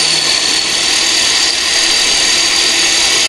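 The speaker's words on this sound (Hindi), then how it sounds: "चॉपर में पीस के हो गया।" An electric food chopper whirs loudly and continuously at close range while grinding fish for shami kabab, a steady high-pitched motor drone with no breaks or talk.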